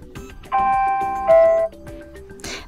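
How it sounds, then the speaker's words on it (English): A bright electronic alarm ringtone on a Motorola Moto G10 phone plays a few sustained ringing chime notes, clear and alone, then fades into a brief rustle. "pick one of these melodies and by clicking on it apply them as your alarm sound"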